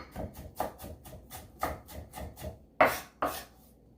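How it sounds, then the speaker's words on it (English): A knife rhythmically chopping onion finely on a cutting board for coleslaw, about ten close, crisp strokes in a steady beat, the last two louder, with no talking. "I'm just going to run my knife through it like this. Get it diced up really fine."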